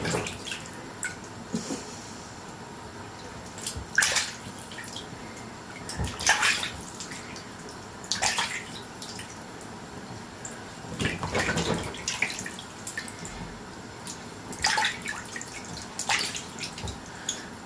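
Fish being washed under running tap water in a kitchen sink, a steady stream with repeated splashing surges every couple of seconds as the fish is rinsed and handled.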